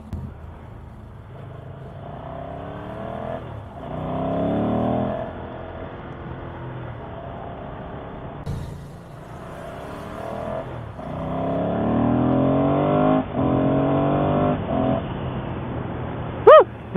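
Ducati Monster motorcycle engine heard from the rider's seat, a steady mid-range drone that rises and falls with throttle changes, climbing in pitch during several accelerations and easing off between them, with wind rush throughout.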